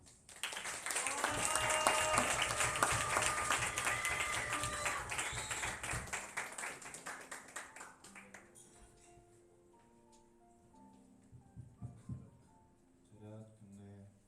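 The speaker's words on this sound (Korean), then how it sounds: "그래서 이 시간에 나와서 발표할 때 큰 박수 부탁드립니다." Students clap for classmates presenting at a school vacation-ceremony talk, a dense burst of applause for about six seconds that thins into scattered claps and tones, with talk underneath.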